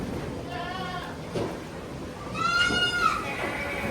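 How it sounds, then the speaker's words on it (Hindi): A goat on a farm gives two wavering, nasal bleats, the second louder and longer, close by over a low background murmur that may include faint voices. "बेचारी बकरी।"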